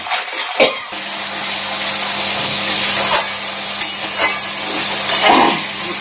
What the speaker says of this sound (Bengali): একটু কষাবো ভালো মতো।